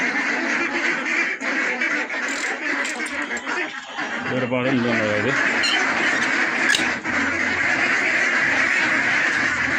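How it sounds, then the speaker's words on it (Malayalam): Kuttanad ducks, including spotted ducks, quack repeatedly nearby in a noisy flock while someone speaks briefly over them. "മറ്റു കുട്ടനാടൻ താറാവുകൾ"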